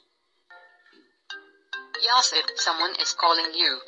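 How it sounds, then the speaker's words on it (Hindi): A custom name ringtone plays on a phone: a few short chiming tones come first, then a louder, voice-like melodic passage, close and clear. "तो आपका रिंगटोन जो है वो तैयार हो चुका है"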